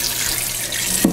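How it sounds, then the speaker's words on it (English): Cold water runs from a kitchen tap to rinse a scrubbed cast iron pan, a steady close hissing stream with a brief splash or clunk near the end. "I'm going to turn on the cold water and we're going to rinse it off."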